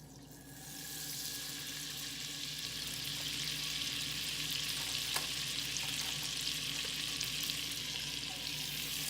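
A stick of butter melts into hot olive oil in a pot over medium heat, a steady soft hiss and crackle that swells after the first second and holds even and moderately quiet throughout.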